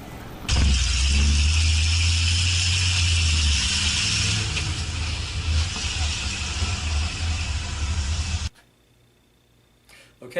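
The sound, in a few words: car engine running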